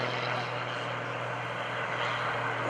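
A propeller-driven aerobatic airplane flown by Gary Ward at the 2013 Greenwood Lake Airshow roars steadily overhead, a continuous broadband engine and propeller drone at fairly close range with no talk.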